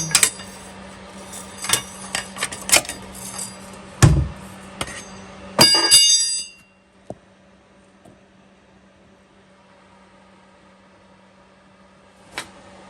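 A metal catch pan for transmission fluid handled under a Chevy Suburban or Tahoe during a 4x4 transmission removal, with scattered clanks, scrapes and a heavy thump over a steady hum, then near silence and one last faint clink.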